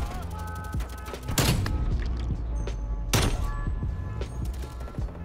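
Gunfire in a first-person shooter game, with a couple of loud sharp shots standing out among mechanical clicks and clatter, steady game noise throughout.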